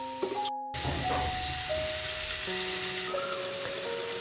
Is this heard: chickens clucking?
no